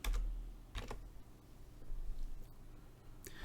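Keys on a computer keyboard clack in short bursts while code is typed, a few distinct sharp taps spaced apart over a low steady background hum.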